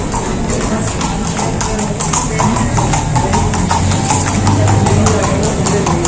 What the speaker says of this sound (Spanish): Hacía mucho que no veía un señor montando a caballo, a todo galope.